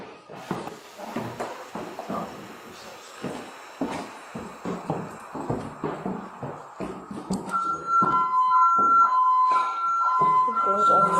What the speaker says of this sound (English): Apparently, it's a burglar alarm of a home, residential home